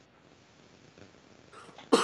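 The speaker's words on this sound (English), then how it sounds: "Sorry, freaking cough, man." A single harsh cough bursts out loud and close at the very end, after a stretch of quiet room tone.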